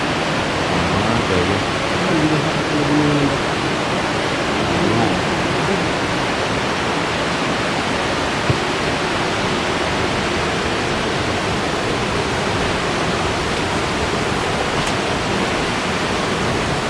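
Tappiya Falls at Batad, Banaue, Ifugao roars with a steady, dense rush of falling water that stays even and loud throughout.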